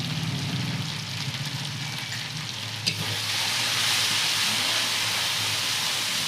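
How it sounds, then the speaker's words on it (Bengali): Masala spices with turmeric and Kashmiri chili powder frying in a pan for a desi mushroom dish: steady sizzling hiss with stirring scrapes, growing slightly louder after a brief clank midway. "একটু ভালো করে মশলাটাকে ভেজে নিতে হবে"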